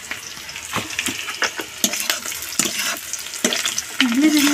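Onions and turmeric sizzle and fry in a pan, with steady crackling and occasional stirring scrapes, close and fairly loud, with a brief faint voice near the end.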